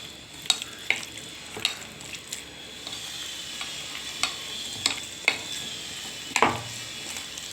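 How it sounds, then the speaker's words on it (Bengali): Green chilies fry in oil in a pan for pumpkin, potato and pointed gourd fritters, with a continuous sizzle and periodic clicks and scrapes of stirring. "এই লঙ্কাটা এভাবে ভেজে নিতে হবে"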